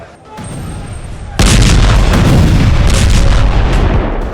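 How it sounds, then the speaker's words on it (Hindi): Bombing near Al-Shifa hospital in Gaza: a low background rumble gives way to a sudden, loud, heavy blast that keeps roaring and rumbling at full strength until the end, with no talking. "गाजा पट्टी का सबसे बड़ा अस्पताल अल शिफा इजराइल के बारूद से फिर दहल गया"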